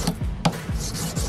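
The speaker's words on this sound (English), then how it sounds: "Just file the outside again." A metal file rasps across the outside of a handmade flat wedding band in several short, close strokes with brief pauses between them, and no talking.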